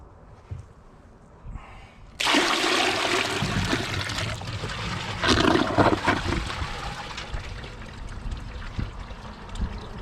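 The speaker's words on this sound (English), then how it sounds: "Since I don't have a flushometer set up, I'm gonna bucket flush it." A 2020 American Standard Madera toilet flushed by dumping a bucket of water into the bowl: a sudden loud rushing roar of poured water that swirls and drains for several seconds, then settles into a softer trickle.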